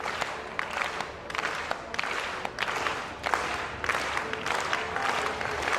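An Italian stadium crowd at the Grosseto IPC Athletics European Championships claps for a men's T44 long jumper. The clapping comes in rhythmic, pulsing waves, moderately distant and fairly quiet, with no speech on top.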